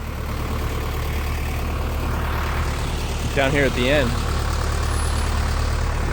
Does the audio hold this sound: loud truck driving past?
yes